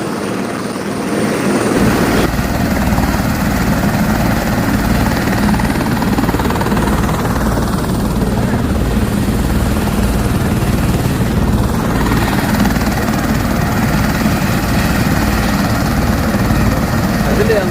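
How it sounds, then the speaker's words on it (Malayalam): Loud, steady helicopter rotor roar and engine drone, continuous and close, filling the whole stretch without pause. "നമ്മൾ ഹെലികോപ്റ്റർ വന്നിട്ട് ഹെലികോപ്റ്ററിൽ ഒരു യാത്രയാണ്"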